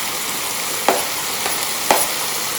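Bell peppers and carrot stir-frying for Hakka noodles give a steady close sizzle, broken twice by short scraping stir strokes, with no talk.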